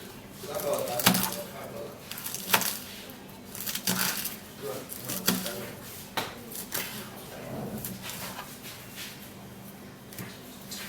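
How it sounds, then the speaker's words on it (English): A knife slices lettuce leaves on a board: irregular crisp cuts and soft crunches at close range, with a voice talking alongside. "after cutting this lettuce leaf, I have to arrange them and slice them"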